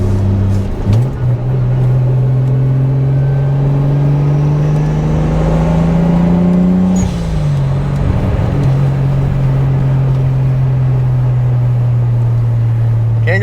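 Toyota MK3 Supra Turbo driven from inside the cabin: the engine drones and climbs steadily in pitch, drops sharply around a gear change, then pulls upward again with a loud, sustained whir.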